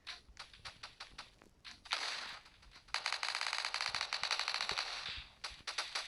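Rapid gunfire bursts ring out in a Fortnite-like shooter game, starting as scattered single shots, then swelling into sustained automatic fire, loud and close, with brief pauses between volleys and no talking.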